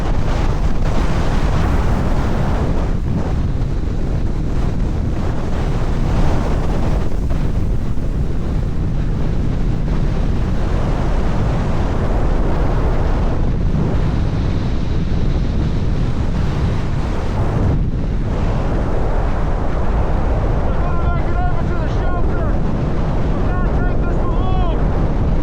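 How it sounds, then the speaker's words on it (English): A blizzard's wind roars steadily around a winter tent campsite, a loud, unbroken gusting rush that stays heavy from start to finish. "Full-on blizzard with a crazy wind chill."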